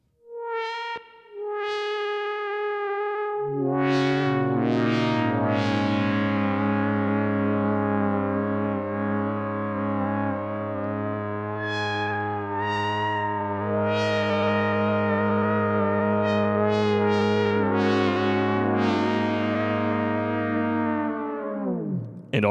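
Generation Loss MKII lo-fi tape effect with reverb on a synth line, warbling pitch flutter over sustained tones, a few short notes giving way to a long wobbling chord that fades out.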